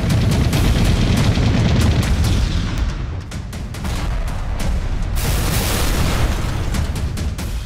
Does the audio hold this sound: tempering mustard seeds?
no